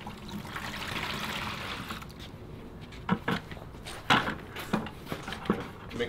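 Water is poured into a regular 5-gallon pail for mixing a concrete overlayment, a steady hiss of flowing liquid that gives way to irregular splashes and knocks near the end.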